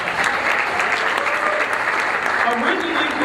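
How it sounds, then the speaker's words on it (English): Loud, sustained applause from a large audience, dense clapping holding at a constant level throughout. "Let's give him a round of applause."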